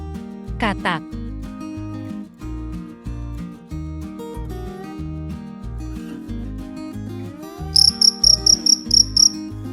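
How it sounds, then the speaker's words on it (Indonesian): Cricket chirping in a short, rapid series of pulsed chirps toward the end, set against background music. "Crickets."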